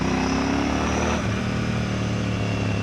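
A Royal Enfield Bear 650 motorcycle pulls away under throttle, its engine thrumming loud and close in a steady, rising drone for a few seconds.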